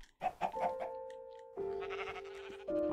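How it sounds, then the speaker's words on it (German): Sheep bleating in Minecraft: a few short, close bleats followed by a longer sustained tonal bleat that swells louder near the end, with no talk. "Lauter Schafe hier."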